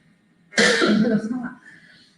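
A girl with a slight cough gives one harsh, close cough lasting about a second during an indoor book discussion, then quieter breathy sound trails off.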